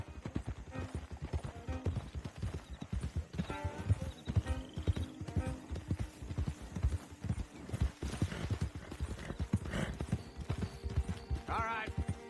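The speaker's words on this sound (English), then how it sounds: "Don't want the horses clopping around outside the window." Horse hooves clop in a continuous rhythmic stream on a trail in Red Dead Redemption 2, close and fairly loud, with a snort or whinny and jingling tack amid ambient game sound.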